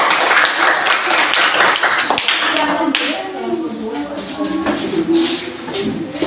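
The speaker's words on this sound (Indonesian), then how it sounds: "kita tepuk tangan untuk kelompok 2" Schoolchildren in a classroom clap for a group of classmates, loud close uneven clapping from many hands that thins out midway, with shuffling and children's voices mixed in.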